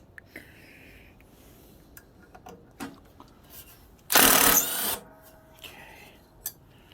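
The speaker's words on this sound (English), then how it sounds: "if you have an impact driver, that is the way to take those out" A short loud burst of an impact driver backing out stubborn screws during a leaf blower vacuum repair, about a second of hammering whir standing out amid quiet workshop handling noises.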